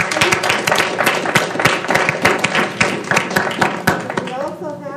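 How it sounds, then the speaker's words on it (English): A round of applause fills a school district governing board meeting, with many overlapping hand claps in a steady dense patter while a voice talks over it near the end. "Let's give him a nice round of applause,"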